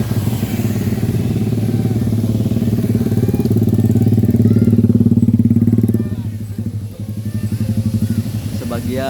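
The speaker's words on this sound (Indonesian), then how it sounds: "Sebagian pakai motor tuh ya" Motorcycles ride in a village wedding procession between rural hamlets, their engines droning loudly and continuously up close and easing off briefly toward the end, while people talk over the noise.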